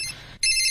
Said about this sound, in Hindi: मोबाइल का घंटी बज रहा है।